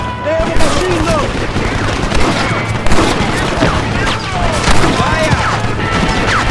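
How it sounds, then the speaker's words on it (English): Machine gun fire rattles through a battle at a Mexican mansion in Red Dead Redemption on PC, heavy, dense and continuous, mixed with crashes and booms while soldiers shout over the noise. "Look out, John! They have a machine gun!"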